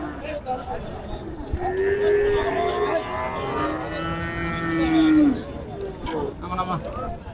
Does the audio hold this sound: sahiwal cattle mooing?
yes